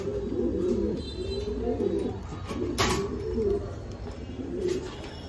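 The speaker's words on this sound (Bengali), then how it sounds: "মাশাআল্লাহ টপ কোয়ালিটি কবুতর" Red Lahori fancy pigeons coo in soft, repeated throaty rolls close by, with a few brief chirps and a faint background hum running steadily through.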